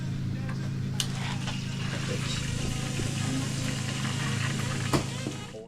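An old Peugeot 103 moped engine runs at a steady idle nearby, a continuous buzzing drone with occasional clicks and knocks, and people talk faintly underneath before it cuts out at the end.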